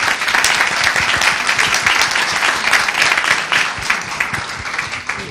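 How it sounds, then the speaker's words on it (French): Audience applause for a participant named Patricia at a Nantes talk event about salaried work, dense clapping from a full room that stays loud and steady for about five seconds. "Eh ben, on peut applaudir."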